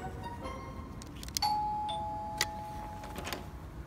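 A doorbell rings once with a clear electronic ding, then its tone lingers faintly over quiet room noise as a guest arrives at a home dinner.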